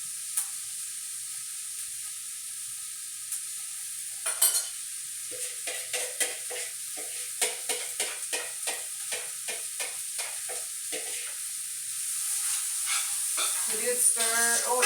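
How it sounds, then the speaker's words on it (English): Vegetables hit hot oil for a stir fry with a steady hiss, then crackle and scrape in quick bursts as they are stirred in the pan. The sizzle swells toward the end. "You're probably gonna hear it sizzle."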